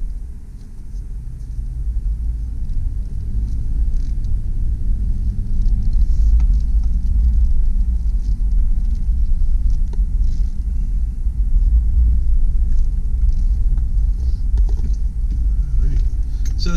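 A 2002 Chevrolet Tracker ZR-2 4WD V6 idles in reverse with a steady, loud low rumble, heard from inside the cabin, with faint voices underneath.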